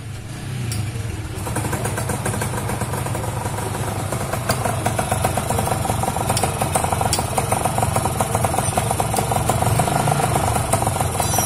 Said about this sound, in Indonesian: Tes pertama untuk mengetahui olsamnya jalan atau enggak.